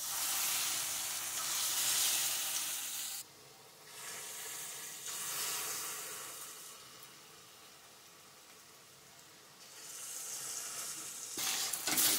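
Whole spices crackle and sizzle in hot oil, sugar going in to brown, for a tomato fritter and brinjal mustard-paste dish. The sizzling is close and loud, with breaks and swells as the frying rises and fades. Nobody speaks.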